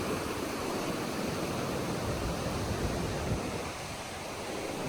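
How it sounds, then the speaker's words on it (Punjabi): Steady, loud rushing water roars without pause, a dense wash of noise like a torrent or waterfall close by. "ਪਾਣੀ ਦੀ ਆਵਾਜ਼ ਬਹੁਤ ਖਤਰਨਾਕ"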